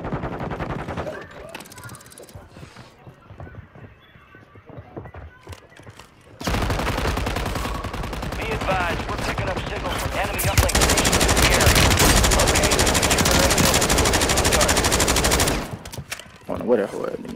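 Rapid automatic gunfire from the Call of Duty video game, long sustained bursts that build to a loud continuous roar, with talk over quieter stretches before the shooting.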